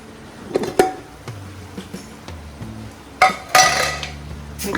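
A pressure cooker holding chicken wrapped in banana leaves is opened, with a few sharp metallic clinks and clanks of pot and lid scattered irregularly, two louder bursts standing out over quiet kitchen background.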